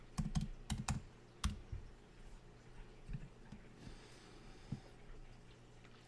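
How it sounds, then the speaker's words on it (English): A computer keyboard is tapped to enter a password, with a quick run of soft, close keystrokes at the start, then sparse scattered taps and quiet pauses. "I'll type in my password."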